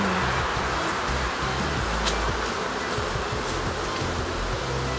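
Black honeybees swarm around an open hive, their dense, steady buzzing filling the air continuously and close by, with no voices present.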